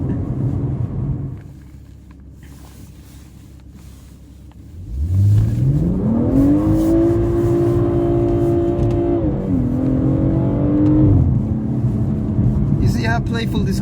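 A BMW M140i revs up from a quiet cruise into a strong acceleration, the engine note climbing steadily and holding high, briefly dipping with a gear change before easing off; the interior sound is loud and close, and someone talks over it.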